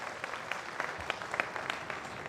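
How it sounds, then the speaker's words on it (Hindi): An audience at a temple consecration festival in Rajasthan gives a short burst of scattered clapping for the land of Rajasthan: faint, uneven hand claps that build briefly and then trail off. "एक बार जोरदार तालियां बजाए हमारे राजस्थान धरा के लिए।"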